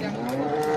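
A Qurbani cow gives one loud, close moo that fills the whole short moment at the Hazratpur cattle market.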